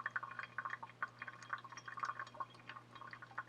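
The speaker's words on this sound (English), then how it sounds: "I'm going to slow it down even more and just kind of keep a consistent pour going." Hot water poured slowly and steadily over coffee grounds in a pour-over brewer, a faint close trickle with small splashing drips and a low hum beneath.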